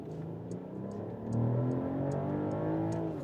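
2027 Mercedes S-Class in sport mode accelerating hard on the autobahn, engine note swelling and climbing steadily in pitch from inside the cabin, smooth and continuous with faint ticking.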